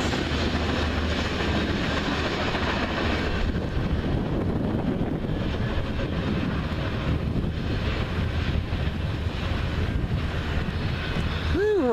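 A CN freight train rolls past in Ladysmith, a steady rumbling wash of wheels and cars buffeted by wind noise, with a horn-like tone sounding briefly at the very end.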